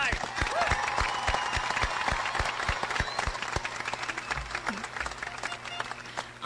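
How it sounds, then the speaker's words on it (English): A crowd at a high school graduation applauds top honors graduates, steady sustained clapping from many hands, loud and close, filling the hall throughout. "Please give them a round of applause for their dedication and outstanding accomplishments."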